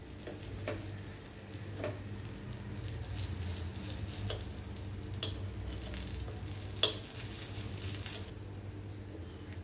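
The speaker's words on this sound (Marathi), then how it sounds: "आला याला आपण पलटी करूया।" Mixed dal appe frying in an appe pan as the dumplings are turned over, giving a steady low sizzle with a few faint clicks and taps from the flipping.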